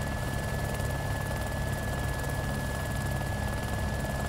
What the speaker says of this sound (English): Danny is trying to get a chopper that we just found.